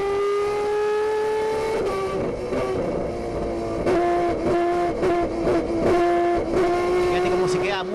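A TC race car engine from Canapino's onboard camera, revving loudly with rising and falling pitch through gear changes and corners, under a commentator's continuous talk.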